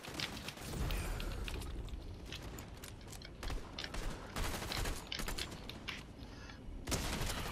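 A dense stream of gunfire and clanking effects from a Fortnite match, with a shotgun used during jetpack flight, fills the clip as a continuous loud clatter with sharp repeated bursts.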